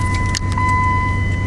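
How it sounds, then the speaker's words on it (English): A pickup truck engine idles in a low, steady rumble heard close up inside the cab, with a brief jingle of keys partway through and no talking. "This is how sexy my truck sounds. I think it purrs nicely."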